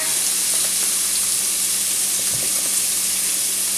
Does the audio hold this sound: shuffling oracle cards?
no